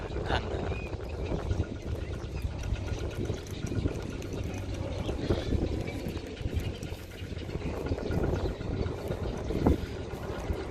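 Walking tractor engine running outdoors to pump water from a rice field, a steady low chugging drone mixed with wind buffeting against the microphone and faint talk in the background.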